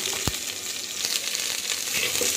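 Small onions sizzle softly in a clay pot for sambar, a faint, steady frying hiss with a brief stir-like scrape.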